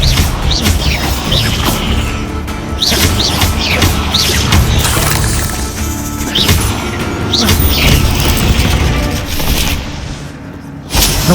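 Disarming spell combat in Hogwarts Legacy: a run of heavy magical impacts, whooshes and crashing booms, loud and close, repeating over several seconds amid battle noise.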